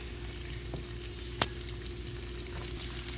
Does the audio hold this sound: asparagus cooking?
yes